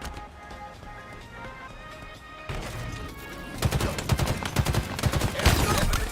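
A grenade blast amid gunfire in a Halo Infinite multiplayer match: a thud of impact, then increasingly loud, rapid bursts of shots and crashes building toward the end.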